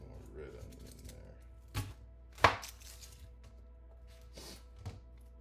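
Red onion being chopped on a board, a few sparse knife thunks in a quiet room, one sharp loud hit standing out among fainter cuts.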